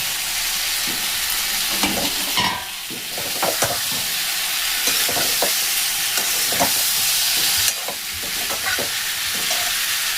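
Cauliflower and potatoes fry in a cooked-down spice masala with softened tomatoes. A loud, close, continuous sizzle runs throughout, broken by scrapes and clatters of stirring, and no one speaks.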